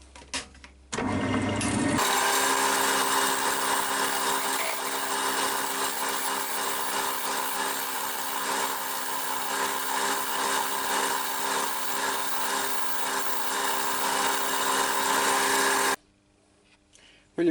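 Yew spun on a wood lathe for a bud vase is shaped with a scraper, a steady, close whirring rasp that starts abruptly, holds for about fourteen seconds, then stops.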